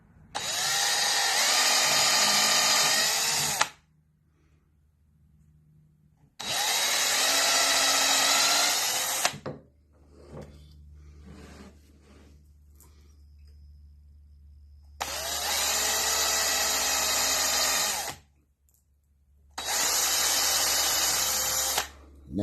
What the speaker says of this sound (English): we're going to drill 4 holes in the center of the holes for the hinges